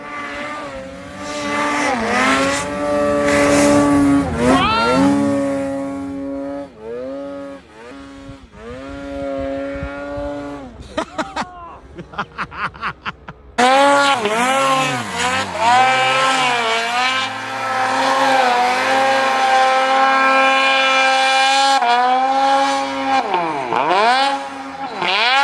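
A turbocharged snowmobile engine is held wide open at full throttle, screaming loudly with strong rising and falling harmonic whine close up, dipping briefly mid-clip before surging back to a sustained high-revving roar.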